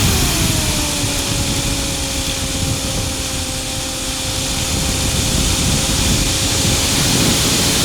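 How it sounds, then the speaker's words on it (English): A light aircraft engine is pulled back to idle in flight, leaving a steady airy drone and wind rush with a faint falling tone. "let's bring the power back to idle and your engine has failed again"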